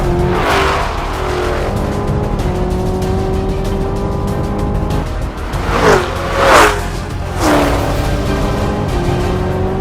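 Chevrolet Camaro ZL1 LTE in a drag race against a Mustang Shelby GT500 and a Challenger Hellcat Redeye: a loud, sustained engine roar that climbs through the gears, with rising pitch sweeps and short surges toward the end.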